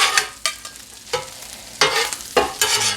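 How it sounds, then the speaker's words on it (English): Beef and cheese being chopped and stirred on a sizzling griddle for a cheesesteak, with sharp repeated scraping strokes of a spatula over a constant frying hiss, close and alone. "here's where we start chopping and cheesing"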